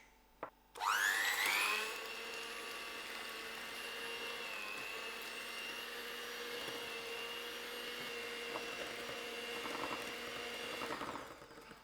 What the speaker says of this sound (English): I'm going to give all this a quick whisk